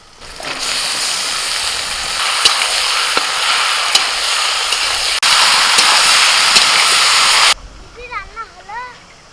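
Chicken meat hits a pan of fried onions seasoned with whole cumin, giving a loud, continuous hissing sizzle that runs for several seconds, cuts off abruptly, then gives way to quieter clatter and a faint chirping sound.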